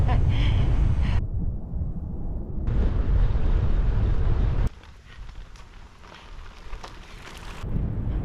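Strong wind buffets the microphone while bikepacking through the Peak District, a loud broadband roar that drops away partway through, then gusts back up near the end.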